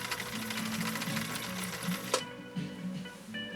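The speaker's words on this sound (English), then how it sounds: "Look at that needle swing, folks." A 1960 Viking Husqvarna CL-21A sewing machine stitches in a rapid, even mechanical whir. The motor stops abruptly partway through, then faint clicks and brief restarts follow.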